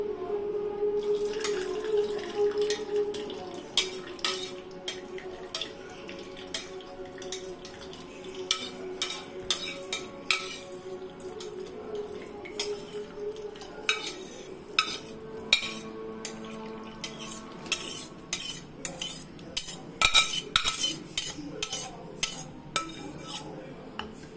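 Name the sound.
spooning gravy masala from pan into mixer jar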